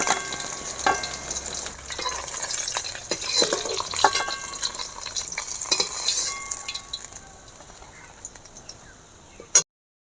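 Fish fries in hot oil in a wok, giving a busy, close sizzle with stirring and the clink of a utensil against the pan. The crackle fades, then one sharp knock sounds at the end.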